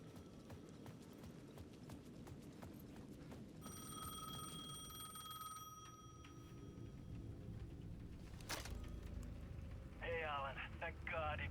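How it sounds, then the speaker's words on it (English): Payphone at the edge of a plaza ringing in Alan Wake 2, a run of tonal bell-like rings in the middle of a dim, rumbling game ambience, fairly faint and alone with no talk. "The payphone at the edge of the plaza was ringing again."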